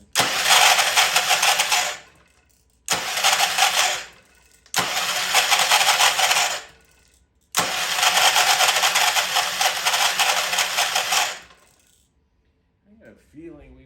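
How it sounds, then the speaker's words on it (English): A Troy Bilt Pony rototiller engine is cranked with the key in four loud bursts of whirring starter churn of about two to four seconds each, separated by short pauses, without catching. "let's try spinning it with the key"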